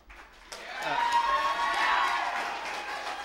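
Audience at a city council meeting breaks into cheering and applause, a broad swelling crowd roar with whoops that rises after a sharp onset and holds steady at moderate volume.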